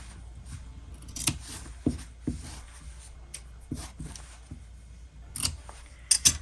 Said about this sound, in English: I'm gonna go and trim the corners only